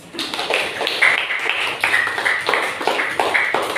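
A primary school class clapping hands together in a rhythmic patterned clap, loud and close, repeating in quick even bursts.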